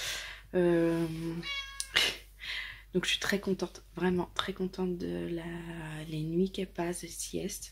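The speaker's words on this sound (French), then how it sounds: "c'est mon chat qui débarque" A house cat meows repeatedly in a home, close and clear, its cries interleaved with someone talking in French.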